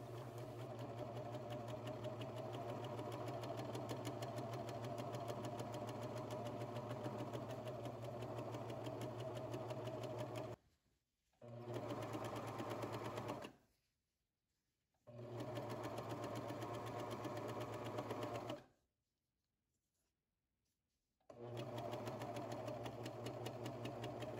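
Sewing machine finishing the seam allowance on a wrap front dress (Vogue 1952 pattern), running in steady continuous bursts with a constant motor hum and rapid stitching, stopping briefly and restarting several times.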